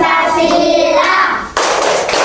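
Children in a classroom chant the Pancasila clapping rhyme, their sung voices close and loud over rhythmic hand claps, with a sharp burst partway through.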